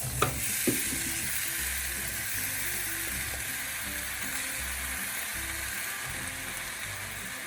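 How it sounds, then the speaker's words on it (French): Apples sizzling in foaming butter and sugar as they begin to caramelize for a tarte tatin, a steady low fry with occasional stirring scrapes, close and continuous with no talk. "Je mélange bien mes pommes dans le beurre et le sucre."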